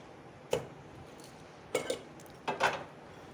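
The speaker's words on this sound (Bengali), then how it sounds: "তো চলো ফটাফট রুটি কটা ভেজে নিই" Rotis are being fried in a pan, heard as three bursts of clattering cookware, a sharp clink followed by paired knocks, spaced over a quiet kitchen background.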